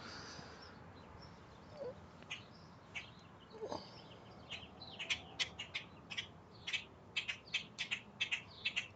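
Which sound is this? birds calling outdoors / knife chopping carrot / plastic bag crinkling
birds calling outdoors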